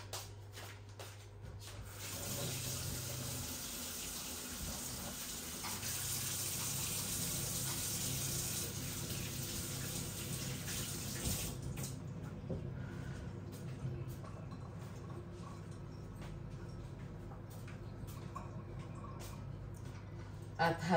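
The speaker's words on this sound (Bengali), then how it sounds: "আমার হাতটা আমি ধুয়ে আসি।" Water runs steadily from a tap over hands being washed at a sink, a continuous rushing wash that eases off partway through, with faint handling noises in a home kitchen.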